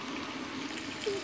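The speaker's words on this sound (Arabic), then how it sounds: "اخر شيء بنضيف المي" Water added to a cooking pot of meat seasoned with cloves, cardamom, black pepper and bay leaf, a brief, faint pouring wash over a low steady background.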